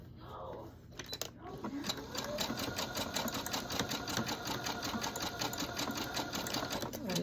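Sewing machine running steadily in a rapid, even stitching rhythm as it zigzags over an elastic band joined to fabric, loud and close after a brief start-up pause, with a voice talking over it.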